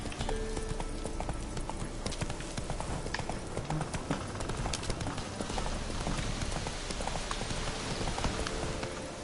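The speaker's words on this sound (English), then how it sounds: "Whoa there, Roach." Horse hooves clip-clopping in The Witcher 3: Wild Hunt, a dense, loud rhythmic beat of hoofsteps throughout, mixed with rain-like hiss and other game ambience.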